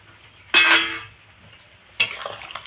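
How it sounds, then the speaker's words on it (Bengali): Fried potato and brinjal pieces go into a boiling hilsa fish curry, making two short bursts of splashing and clattering a second and a half apart, with quiet bubbling in between. "ঝোলটা ফুটে উঠেছে এখন আমি দিয়ে দিচ্ছি ভেজে রাখা আলু আর বেগুন"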